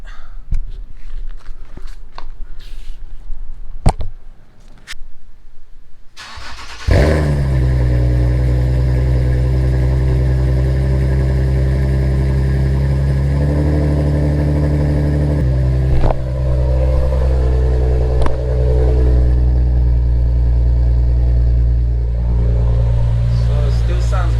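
Infiniti G37 engine fitted with a single-exit 3-inch exhaust and twin resonators starts up after a few quiet knocks, then settles into a steady, loud, deep idle drone that holds to the end, with a brief blip midway.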